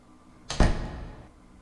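A door slams shut with a heavy thud and a short rattle of the lock, close and loud, fading into a brief tail of room noise.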